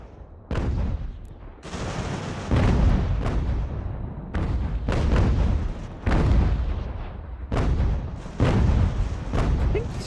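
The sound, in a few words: mortar artillery fire in video game Ultimate General: American Revolution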